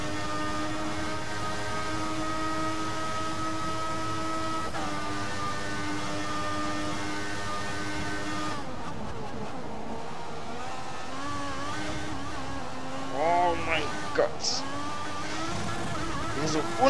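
Marussia race car in the F1 2014 video game held at full throttle through Eau Rouge at Spa, a loud sustained engine drone that shifts pitch midway, with someone talking over it.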